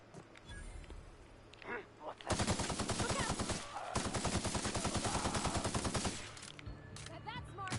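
Rapid automatic gunfire in The Outer Worlds video game, with two long loud bursts of repeated shots separated by a short pause and quieter noise before and after.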